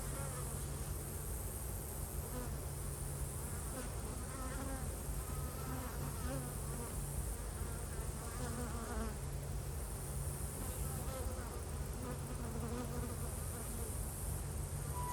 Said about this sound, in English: Good amount of bees here.